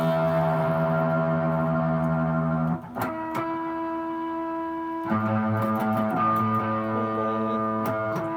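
Electric guitar played through distortion, sustained buzzing chords ringing loud and steady with a brief change in the middle before another held chord.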